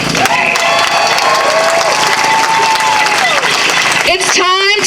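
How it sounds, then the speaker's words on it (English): Audience at an Afro-Indigenous justice rally in Richmond, Virginia breaks into loud, sustained applause and cheering that fills the whole stretch, with shouts rising over the clapping near the end. "So clap it up."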